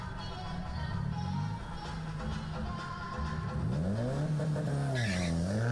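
Subaru drag race car at a drag strip, its engine droning and then revving up and down as it spools the turbo, a steady loud mechanical roar with rising and falling pitch toward the end.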